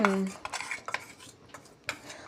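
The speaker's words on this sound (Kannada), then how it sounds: "ಖೀರ್ ಒಳಗಡೆ ಮಿಕ್ಸ್ ಮಾಡಿ ಆ ಪಾಯಸ ಮಿಕ್ಸ್ ಮಾಡಿ ಚೆನ್ನಾಗಿ ಸಕ್ಕರೆ ಎಲ್ಲ ಹಾಕಿ" A spoon stirs sugar into bottle gourd and sabudana kheer in a pot. A few light scrapes and clinks of metal come close by with short gaps between them, and there is no talking.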